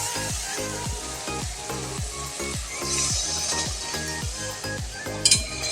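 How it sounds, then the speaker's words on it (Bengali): Spiced oil sizzles steadily in a pan as water goes in for a Bengali aar fish curry, with a rhythmic music beat playing underneath and a brief clink near the end. "মশলা আমার ভাজা হয়ে গেছে, মশলা দিয়ে তেল ছেড়ে দিয়েছে। এবার এতে আমি জল দিয়ে দিচ্ছি।"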